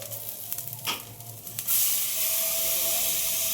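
Dried red chillies, a bay leaf and whole cumin seeds hit hot oil while cooking puja bhog. After a couple of soft clinks, a sudden loud, steady sizzle takes over and continues to the end.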